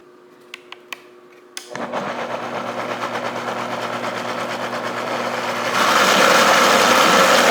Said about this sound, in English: All right, I'm gonna blend this